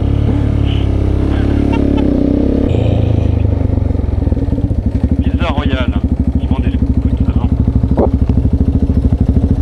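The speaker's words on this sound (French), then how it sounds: "Mais non, c'est ce scooter de livraison." A delivery scooter engine drones steadily nearby, its puttering growing louder and more rhythmic in the second half, while people talk over it.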